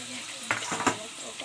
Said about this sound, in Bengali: কুচানো পেঁয়াজগুলো দিয়ে দিলাম।